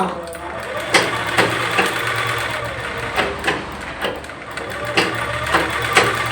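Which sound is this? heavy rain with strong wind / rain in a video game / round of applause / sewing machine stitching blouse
sewing machine stitching blouse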